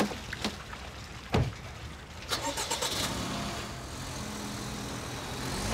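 A car engine turning over and catching, followed by a steady idle and rising drive-off rumble, preceded by a couple of door thuds, moderately close.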